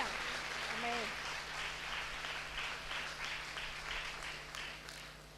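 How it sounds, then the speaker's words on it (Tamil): A church congregation claps together in worship, a dense steady wash of applause lasting several seconds at moderate distance, with a voice briefly speaking near the start. "ஒரு கைத்தட்டி ஆண்டவரை ஸ்தோத்திரம் பண்ணுங்க"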